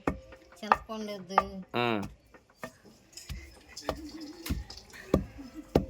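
A grandmother and grandson pound jaggery and raw tamarind for a chutney in a stone mortar in a village kitchen, with irregular hard thuds and knocks. Voices talk between the strikes.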